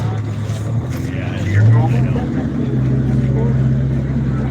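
A 37 horsepower fuel-injected EFI outboard boat motor hums low and steady beneath people talking nearby.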